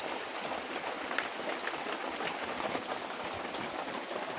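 Steady rain falls outside, an even, continuous hiss of drops on surfaces during a monsoon day near farm fields, with no pauses and no voices.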